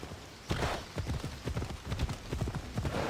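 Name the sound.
horse galloping hooves in video game Assassin's Creed Odyssey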